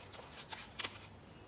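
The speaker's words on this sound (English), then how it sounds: "I'm not ready to take cards as yet. I still want to shuffle" Tarot cards shuffled by hand in a few quick riffling bursts, close and fairly soft, over a quiet background with no talk.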